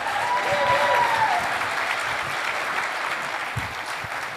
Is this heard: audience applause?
yes